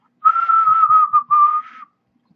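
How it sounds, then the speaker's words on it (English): A person whistles a short, clear, fairly loud tune of a few held notes with brief breaks, alone and close by, lasting under two seconds. "Can you whistle? Yes,"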